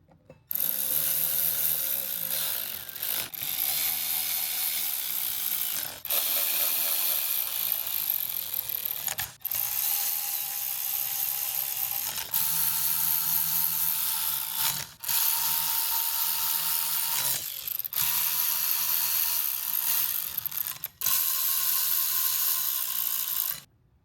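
A hand ratchet runs in and torques Loctite-coated bolts on drag-racing brakes for a 1000whp Toyota MR2 build. The loud, close clicking repeats in long steady bursts, separated by brief pauses as each bolt is reset.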